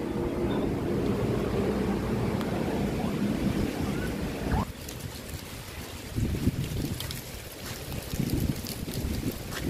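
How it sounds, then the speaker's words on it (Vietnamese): Strong wind on a hillside near a mountain outside Nha Trang roars and buffets the microphone in steady gusts, with a brief lull midway before the rumbling returns. "Bên này thì gió ghê lên cả nhà, tại vì ở gần núi."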